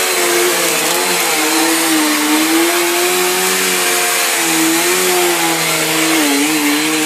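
A household vacuum cleaner runs loud and steady throughout, with a sustained droning motor tone whose pitch wavers slightly, close to the microphone and with no talking over it.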